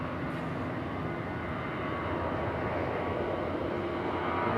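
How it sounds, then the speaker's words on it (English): A United Airlines Boeing 737 taxiing at Raleigh-Durham International Airport hums with a constant, moderately loud engine rumble, slowly swelling toward the end, alone without speech. "United Airlines 737 on the move now."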